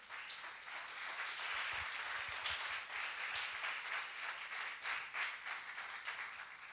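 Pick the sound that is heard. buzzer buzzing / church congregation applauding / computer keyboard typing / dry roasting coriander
church congregation applauding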